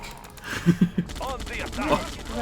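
Gunfire in a video game, a quick burst of three sharp shots followed by a busier stretch of shooting and noise, heard close with voices talking over it.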